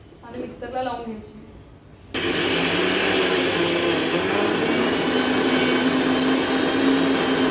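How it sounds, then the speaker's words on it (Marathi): A mixer grinder grinds soaked dal in its jar, starting abruptly and running as a loud, steady whine and roar close by, after a brief stretch of someone talking. "आणि मिक्सरला लावून घ्यायची."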